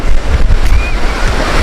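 Sea waves wash on the shore at Manora beach, a loud continuous surf with heavy wind buffeting the microphone and no talking.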